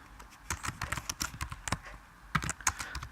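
Clattering keystrokes on a computer keyboard while C++ code is entered in Xcode, in quick irregular bursts with a short pause midway, close and fairly quiet.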